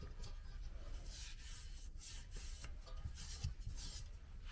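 An adhesive strip is peeled and pressed onto a locker wall, heard as a steady close rubbing and rasping with soft sticky tearing bursts throughout.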